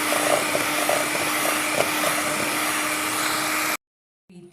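An electric hand beater whirs steadily through cookie batter in a bowl, a close, even motor drone with faint rattling that runs for under four seconds and then cuts off abruptly, followed by a brief soft clatter.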